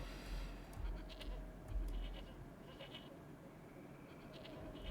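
Enigma creatures in the game Anarchy Online bleat faintly like lambs or goats, a few thin calls scattered over a low rumbling ambient background.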